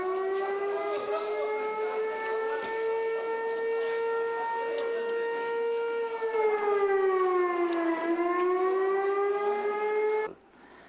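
A loud, droning siren wails steadily, dipping slightly in pitch before rising again and cutting off near the end.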